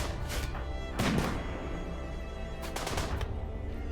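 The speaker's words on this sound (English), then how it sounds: "Oh, are you shooting the wall?" Guns firing at a wall during a RimWorld raid, heard as a few short, muffled bursts of shots with dull thuds over a steady game backdrop; no talking.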